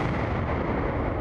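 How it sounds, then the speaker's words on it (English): A blast set off by Army engineers on Fort Drum's training grounds, a brief, loud, deep boom filling the whole clip with heavy low rumble and no voices. "Sometimes an explosion is your only option."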